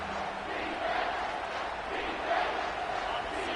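A stadium crowd roars steadily in a college football video game, Nevada at UCLA, a broad sustained wall of cheering that swells slightly without pause.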